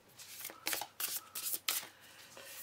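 Tarot cards being shuffled in several quick riffling bursts, soft papery flutters at close range with short pauses between, no talking.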